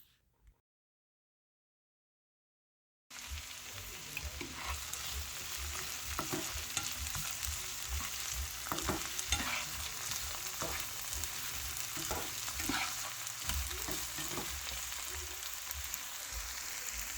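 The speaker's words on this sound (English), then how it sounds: "we're going to saute the liver spread. We are going to use only half of the onions" Onions sautéing in butter in a pan for Kapampangan-style milkfish sisig, starting after a few seconds of silence, then a steady close sizzle with repeated scraping stirs and soft clatter, no talk.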